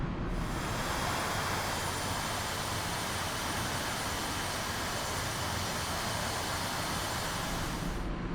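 Su-25T jet engine roaring steadily in the DCS flight simulator on a landing approach, a continuous loud broadband rumble and hiss with a faint whine, unbroken and without voices.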